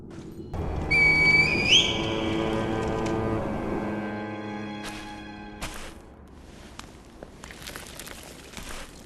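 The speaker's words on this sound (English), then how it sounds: "signal me with a reed whistle" A high reed whistle from Sekiro's cutscene rises in a couple of bright bending tones, then trails off against a low rumbling ambience with scattered thumps and footsteps.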